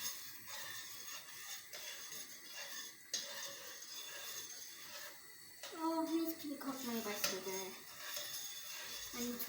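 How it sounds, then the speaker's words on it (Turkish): A spoon scrapes and stirs in a pot of thick pudding, soft rubbing strokes with occasional clinks, while someone talks over it partway through. "Kaşığımızı alıyoruz. Karıştırmaya başlıyoruz."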